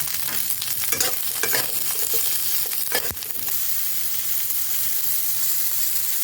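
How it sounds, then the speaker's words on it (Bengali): Cauliflower florets frying in hot oil with turmeric and salt, a steady close sizzle with occasional stirring scrapes and clatters, continuous throughout with no talking. "দিয়ে আমি এগুলো ভালো করে একটু ভেজে নেব কপিগুলো।"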